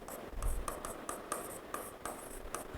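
Chalk or marker strokes on a classroom board during a lesson on second order derivatives, a series of short scratchy taps and strokes in a steady rhythm, fairly faint and close, with no speech over them.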